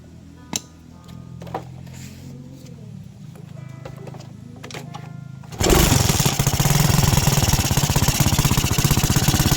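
A Suzuki Smash 115 motorcycle engine with a knocking fault, quiet at first with a few clicks and handling noises, then starting up loud and close into a rapid, rough, pulsing rattle that continues to the end.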